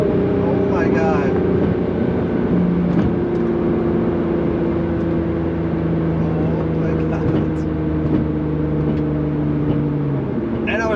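A Nissan GT-R engine pulls continuously while short shifting, its droning tone holding steady between gear changes. The engine is loud, and a person talks excitedly over it.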